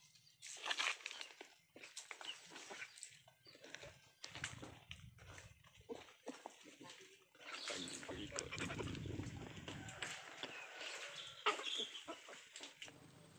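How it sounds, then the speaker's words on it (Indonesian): Chickens on an integrated farm cluck and squawk intermittently at close range, with bursts of fowl calls and background rustling and farmyard noise throughout. "Di sini salah satu pertanian terpadunya yaitu dengan pelihara peternakan ayam."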